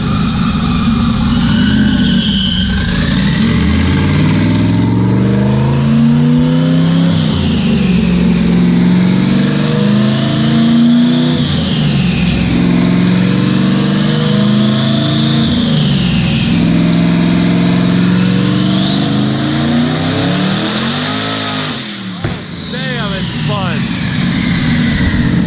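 A 1000-plus horsepower car on a dyno, engine revving hard and continuously with rising and falling pitch sweeps as the wheels spin, loud and close, with people talking over it.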